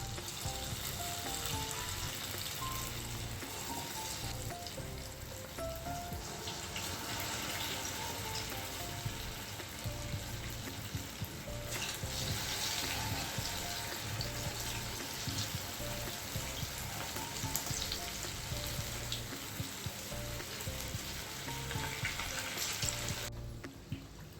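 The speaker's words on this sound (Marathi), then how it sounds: "अशा पद्धतीने आपल्याला तेलामध्ये वडे सोडून घ्यायचे आहेत." Balls of dahi vada batter fry in hot oil, a steady close bubbling sizzle that carries on for the whole stretch, with no speech over it.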